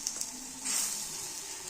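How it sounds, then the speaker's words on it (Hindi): Hot desi ghee tempering for sarson ka saag sizzles and hisses in a pan, a brief louder crackling burst rising over a steady frying background. "मैं यहाँ पे हमारा तड़का लग रहा है देसी घी का।"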